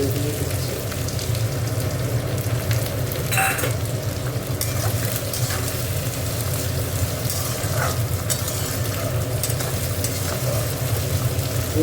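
Dried fish and onion frying after extra oil is added, a steady close sizzle with spatters and intermittent stirring scrapes throughout.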